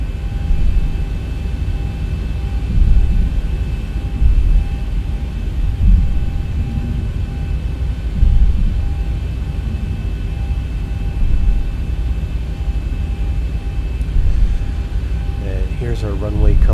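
Boeing 737 taxiing toward runway 04 right in the X-Plane 11 simulator: a steady, loud jet engine hum and rumble with a faint high whine, continuing without break while someone speaks over it.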